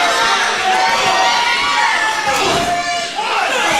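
Loud, sustained crowd at a live indoor wrestling show, roaring and shouting together in a dense continuous wall of noise.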